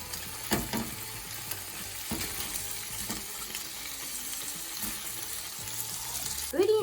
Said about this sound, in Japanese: フライパンにサラダ油を入れて中火で熱し、ブリを入れ、空いた場所にネギを入れます。